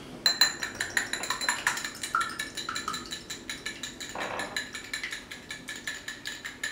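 A whisk beats egg and a splash of water in a bowl for sealing shrimp egg rolls, making quick, rhythmic metallic clinks and scrapes against the bowl sides, close and steady.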